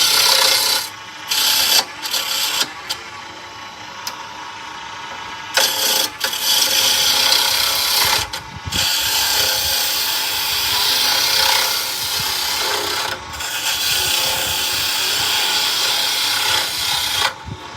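A bowl gouge roughing out a natural-edge wood bowl on a lathe gives a loud, continuous rasping hiss that is broken by several short pauses as the tool lifts off and bites back in.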